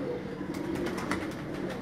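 Pigeons cooing in a Karachi pigeon loft, a dense continuous coo close by with faint flutters, no talk over it.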